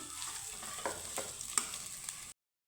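Boiled potatoes frying in a pan with ginger and green chilli, a quiet close sizzle broken by a few soft stirring knocks before it cuts off abruptly.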